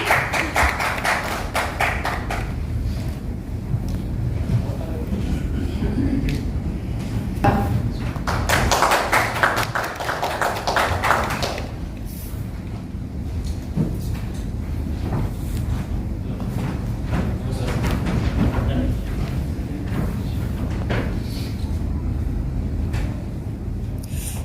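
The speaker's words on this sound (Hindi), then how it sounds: "प्लीज जोरदार तालियां राजीव जी के लिए।" An audience applauds a driver honoured at an InDrive award ceremony in India, with dense, continuous clapping from a crowd that swells, eases and picks up again over a steady background.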